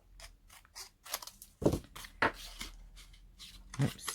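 Scissors trimming paper for a craft tag folio, several short crisp snips at an uneven pace, close by and fairly quiet.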